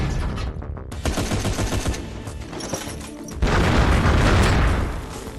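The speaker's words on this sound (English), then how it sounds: "Let me launch the missiles back." Missiles fly and explode in the action game Gungrave GORE amid a dense barrage, with continuous booming and crackling blasts that swell into a louder roaring burst midway.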